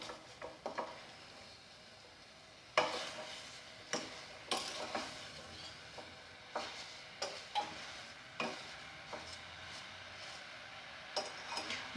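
Apples with vanilla sugar are stirred in a pan, giving irregular clinks and scrapes of a spoon against the pan over a faint sizzle, with no voices.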